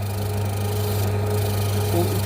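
An electric drill fitted with a 3 mm bit bores into the back of a date pit, a steady close motor whine with a low constant hum throughout and only slight changes in pitch.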